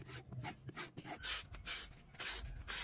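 A knife is drawn across a Pro Edge sharpener, producing a quiet, rhythmic rasping of repeated short grinding strokes with tiny gaps between them.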